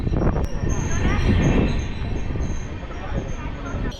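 The Kovai Express running on rails near Arakkonam Junction, heard from inside the carriage as a loud, continuous rumble of wheels with rattling, a faint high squeal and a sharp clank near the start.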